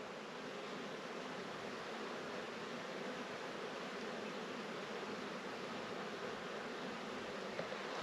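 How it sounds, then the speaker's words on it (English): A steady, low buzzing hum of many honey bees at hive entrances, continuous and fairly faint, with no voices. "Bees are extremely busy."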